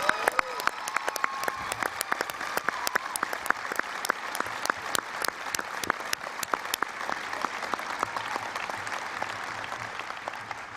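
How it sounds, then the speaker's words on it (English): Steady applause from a conference audience at the IFLA WLIC 2017 closing session in Wrocław, many hands clapping densely and continuously for about ten seconds, with a faint murmur of the crowd underneath. "Give them applause,"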